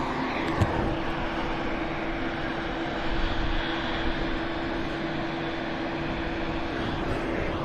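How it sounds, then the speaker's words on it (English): An aircraft on approach at Manchester Airport makes a steady, loud engine roar with a low rumble that holds throughout. "There is an aircraft on the approach."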